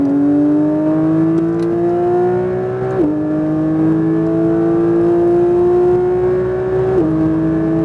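A Porsche 992 911 GT3 engine revs up at full throttle on a track, pitch climbing steadily, dropping briefly at a gear shift, then climbing again before another shift.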